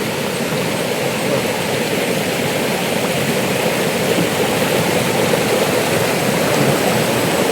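A waterfall and stream flow with reduced summer water, giving a steady, unbroken rushing hiss that stays close and even throughout.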